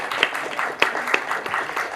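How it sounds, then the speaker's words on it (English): Audience applauding panel members at an institute event, a short burst of scattered individual claps, fairly quiet and uneven, with no clear talking. "Please give them a big round of applause."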